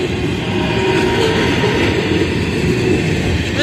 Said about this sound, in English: I get to see the welded rail train without anyone on it.